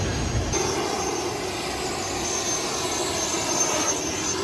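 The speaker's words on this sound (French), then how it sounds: "Le voilà le jet privé." A private jet aircraft roars steadily at a constant, loud level, a broad engine rumble and whine without clear changes.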